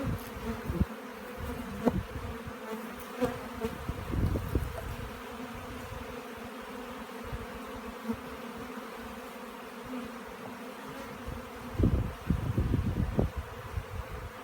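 Honeybees buzz steadily around an open, strong hive full of honeycomb and nectar in a garden, a dense continuous drone with a few louder swells as bees fly close.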